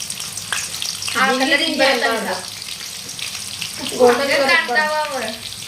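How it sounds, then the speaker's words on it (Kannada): Onions fry in oil for egg biryani, bursts of crackling sizzle swelling twice as they are stirred, close and fairly loud. "ಗೋಲ್ಡನ್ ಕಲರ್ ಬರೋ ಮಟನು ಫ್ರೈ ಮಾಡ್ಕೊತೇನೆ ನೋಡಿ."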